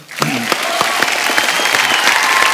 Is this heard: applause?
yes